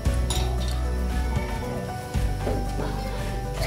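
Whole cloves, black peppercorns and cumin seeds frying in hot oil in a pan for a dhaba-style masala fish curry, a steady close sizzle with scattered clinks of a spoon against the pan.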